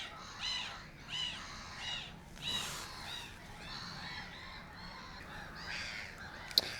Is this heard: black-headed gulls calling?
yes